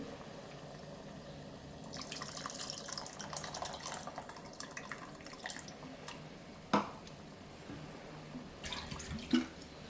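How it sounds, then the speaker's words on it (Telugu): Water poured into a boiling tamarind curry for okra pulusu, heard as intermittent splashing and trickling bursts with a couple of sharp drip-like taps, close and moderately quiet, with no voices. "నేనైతే కొన్ని వాటర్ వేస్తున్నాను"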